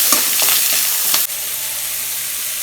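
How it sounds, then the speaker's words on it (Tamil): Chopped onion and curry leaves sauté in hot oil in a pan for carrot beans poriyal, a loud continuous sizzle with a few stirring scrapes, then a sudden drop to a quieter steady frying hiss. "போட்டு இதை நல்லா வதக்கிக்கலாம்"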